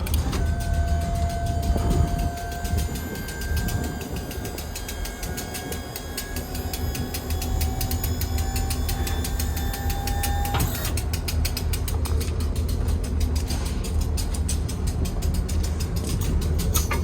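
A KBR925 ballast regulator's cab rolls over during railway work in Camden, New Jersey, with a steady mechanical whine and rattling, ratchet-like clatter of gears that shifts abruptly partway through, all close and continuous.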